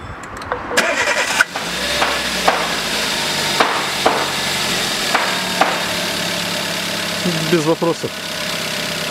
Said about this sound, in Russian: Запустился отлично и работает устойчиво.